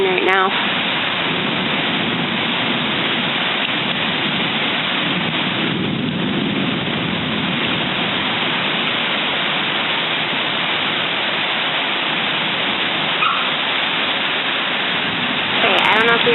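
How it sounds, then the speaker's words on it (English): Heavy rain pours down in a dense, continuous roar, steady throughout with little variation. "We're getting so much rain right now."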